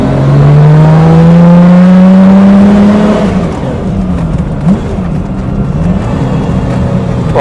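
A loud 1970 Lamborghini Miura P400S engine revs up, its pitch climbing steadily, then drops back to a rumbling idle with a brief blip, heard close up.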